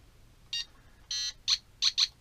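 A series of short electronic beeps from a 4.5-volt ProCom SEQ programmable brick, five quick high-pitched tones in an uneven rhythm against a quiet background.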